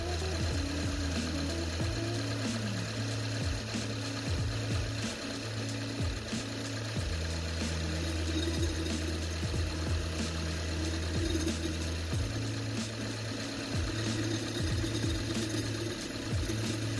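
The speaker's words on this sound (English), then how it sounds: "You're supposed to run the engine at 2000 RPM until it idles smoothly and then go drive it." A Subaru engine idles steadily during a throttle body cleaning with top end cleaner, a continuous low rumbling hum with a faint rhythmic knock, shifting slightly in pitch partway through, close and with no talking.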